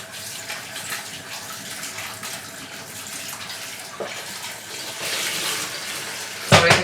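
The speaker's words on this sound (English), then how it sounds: "Give them a good rinse." Chopped potatoes rinsed under a running tap, a steady close stream of water splashing and gushing for several seconds, swelling louder near the end, with no speech.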